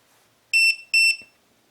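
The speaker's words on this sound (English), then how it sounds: "You heard the two beeps signaling that it's finished" Two short, high electronic beeps in quick succession from a Habu battery charger signaling a full charge, clear and close, followed by quiet.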